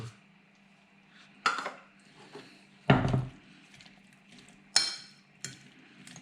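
Tuna and red bean salad with pickles being stirred in a bowl, giving a handful of separate clinks and scrapes of a utensil against the dish, with a low hum in the background.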